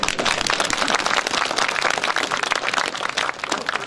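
Enthusiastic audience applause at a political forum held at the birthplace of President Kim Dae-jung, dense and sustained clapping from a large crowd filling the whole stretch at steady loudness.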